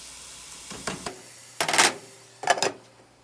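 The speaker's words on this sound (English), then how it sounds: "You want to let it cook for about 5 to 10 minutes, stirring occasionally" Baby spinach sautéing in a pan, stirred in three short bursts of scraping and sizzling, each louder and crisper, with near-silence between them.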